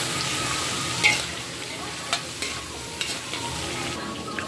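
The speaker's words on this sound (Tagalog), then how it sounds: "ihalo natin tong fishball" Fishballs being stirred in a frying pan for Filipino-style bam-i, with a steady sizzle and a few sharp utensil scrapes and taps against the pan, close and without talk.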